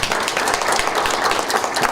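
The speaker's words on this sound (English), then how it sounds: "Let's give them another round of applause." Audience clapping for a panel of speakers at a young professionals event, a steady dense round of applause filling the room for about two seconds with no voices rising above it.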